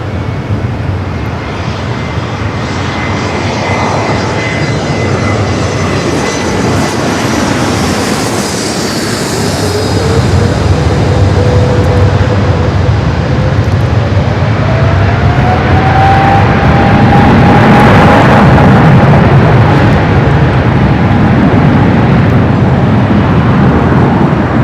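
A Philippine Boeing 777 takes off at Los Angeles International Airport, its jet engines roaring loud and steady as the thrust builds into a rising whine over about twenty-five seconds, heard from a distance.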